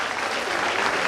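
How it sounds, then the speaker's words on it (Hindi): Audience applause rings out at a Vibhishika Diwas event at Muktakash Manch in Raipur, welcoming the chief minister to the stage; dense, steady clapping from a sizable crowd fills the whole moment without a break. "जोरदार तालियों के साथ हम मंच पर आमंत्रित कर रहे हैं माननीय मुख्यमंत्री श्री विष्णुदेव साई जी का"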